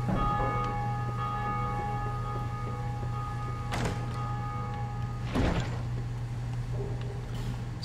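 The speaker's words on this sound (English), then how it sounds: "we will ring the bell. Thus opening up the gate." A bell tolls inside a Dark Souls 2 belfry as the gate opens, with two resonant metallic strikes ringing over a constant low mechanical drone and steady tonal hum, no voices.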